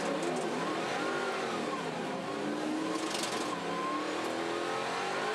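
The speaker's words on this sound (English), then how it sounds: "You can hear it flare into wheel spin as they cross the painted grid boxes on the start-finish straight there." Muscle cars leaving the start line at Pukekohe roar together, engines rising in a loud, dense, revving wall of sound with wheel spin flaring as they cross the painted grid boxes.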